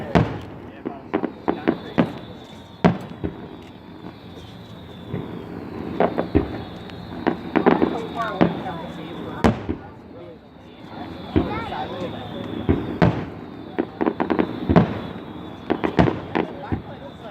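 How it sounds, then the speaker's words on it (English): Fourth of July fireworks go off from a back deck, a long series of sharp bangs and crackling bursts, some loud and close, others more distant, with people talking throughout. "Fireworks."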